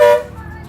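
A vehicle horn honks once in traffic, a short loud toot that fades quickly into the faint rumble of the road.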